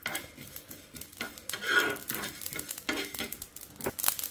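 Fenugreek seeds roasting in a pan for mango pickle, giving a faint dry sizzle with scraping and stirring rubs against the pan in irregular strokes.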